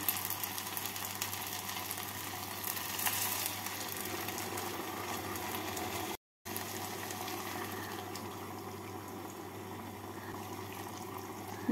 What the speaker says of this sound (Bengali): এবার এর মধ্যে আমি দিয়ে দেবো 3 কাপ গরম জল